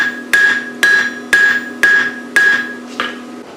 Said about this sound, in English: making sure that I don't hammer in the black temperature range out towards the end of the piece